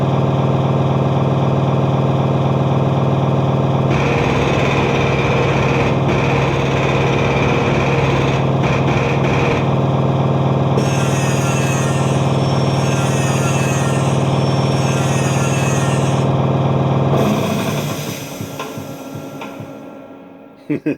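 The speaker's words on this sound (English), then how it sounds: "Oh, there goes that damn air compressor again." An air compressor runs with a loud, steady motor hum and buzzing drone for most of the recording, its texture changing partway through before it cuts off and fades near the end.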